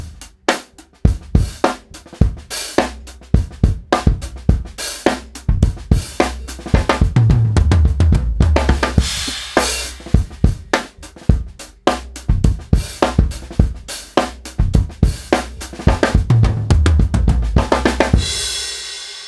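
Drum fill played on a full drum kit, loud rapid strokes across toms and snare with cymbal crashes, repeated in bursts over about nineteen seconds, close and unaccompanied by talk.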